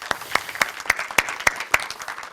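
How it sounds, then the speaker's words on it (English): An audience at a housing conference session applauds the panelists, sharp overlapping claps in a quick, even rhythm, close and lively, for a short burst. "maybe a round of applause for our panelists"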